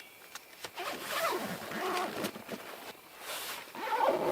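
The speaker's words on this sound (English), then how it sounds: "you can just zip one zipper all the way around" A clothing zipper on outdoor hiking gear, likely a sleeping bag, drawn in one long continuous pull with a steady raspy zip, close and fairly quiet, with short ticks as the pull stops and restarts.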